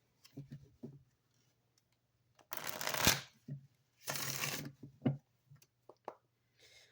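Rider-Waite tarot cards shuffled in two quick riffling bursts, close and crisp, with soft taps and card handling between and around them in a quiet room, no talking.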